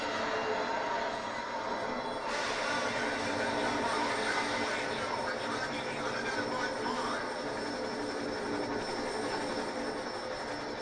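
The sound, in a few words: train in F.E.A.R. 3 video game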